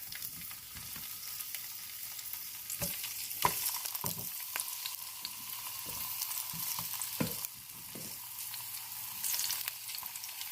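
Squash sizzles in hot butter in a pan, a fairly soft, continuous frying hiss marked by several sharp clicks and scrapes of a utensil, heard up close without speech.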